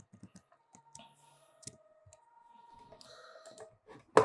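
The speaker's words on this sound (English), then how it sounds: "So here we just click the query button, right?" A few soft computer mouse clicks land at irregular moments over a quiet room, single sharp taps with gaps between, close and fairly faint, ending in a brighter burst.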